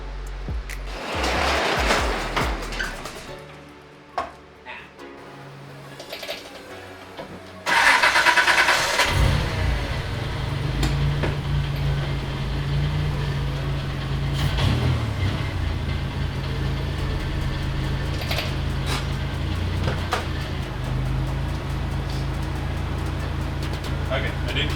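A 1986 Mazda engine, running very lean, cranks and catches, then settles into a steady, rumbling idle after some clanking and shuffling noises up close, with people talking over it.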